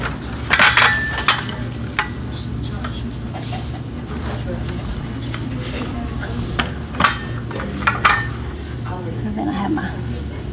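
Dishes being set out on a table for a spring table setting, with sharp clinks of ceramic and glass landing in scattered bursts over a low steady background hum, close by.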